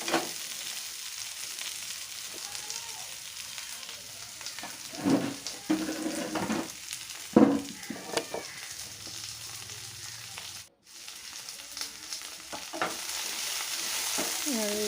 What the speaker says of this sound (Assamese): এনেদৰে আমখিনি দি অলপমান লৰাই দিম।